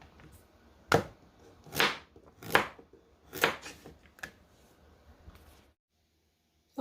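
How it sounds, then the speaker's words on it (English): Vegetables are chopped for soup with a knife on a cutting board, a run of about six crisp, close chops at an uneven rhythm, then quiet. "get my other items cut up and ready."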